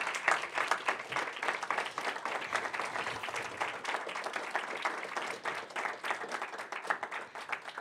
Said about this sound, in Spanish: Un aplauso más fuerte a estas cuatro.